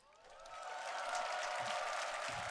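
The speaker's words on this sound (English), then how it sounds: "The arena giving you a big round of applause there." An arena crowd at The International 2023 Dota tournament applauding, a broad steady wash of clapping that swells in the first second and then holds loud and even throughout.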